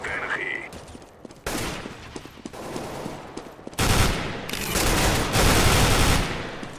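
Gunfire in CS:GO on the Dust II map: rapid bursts of automatic shots arrive in loud clusters, growing denser and louder toward the end, with game sounds around them and no talk.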